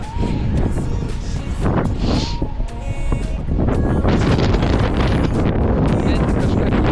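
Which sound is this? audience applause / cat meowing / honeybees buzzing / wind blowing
wind blowing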